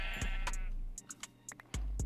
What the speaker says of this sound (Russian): Овцы, это еще лучше.